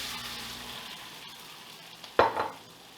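Beaten egg mixture for two eggs hits a hot frying pan with a sudden loud sizzle burst that quickly settles into a softer crackle after a faint hiss.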